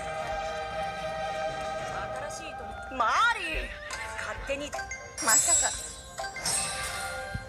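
Horse neighing in the MMORPG Gran Saga, two rising whinnies over game music and chimes, with someone talking throughout.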